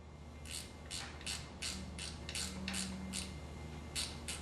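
A ratchet clicks in quick repeated bursts while loosening 10mm bolts on a Nissan 240SX KA24DE engine during teardown, the clicking faint and close in a quiet workspace.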